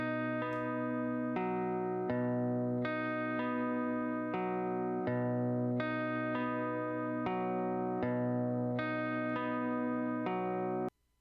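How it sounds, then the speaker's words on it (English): A sampled guitar loop used as the base of a beat repeats a plucked chord phrase at a steady rhythm, with clean sustained tones and a fairly even level, then stops abruptly at the end. "I started with just this guitar sample. I just played this guitar sample."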